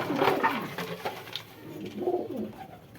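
Giribaz pigeons coo at morning feeding time, with a few low, soft rolling coos near and clear, a brief pause between calls, and no talking.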